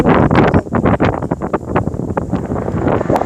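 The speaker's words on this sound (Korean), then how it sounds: "모래 바람 날린다" Strong gusts whip across the microphone on a windy Busan beach, buffeting in uneven bursts as sand blows along the shore, loud and close with no voices.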